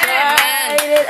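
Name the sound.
congregation applauding at baptism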